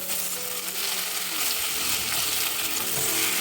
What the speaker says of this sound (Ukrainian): даємо чесночок і цибульку. Обсмажуємо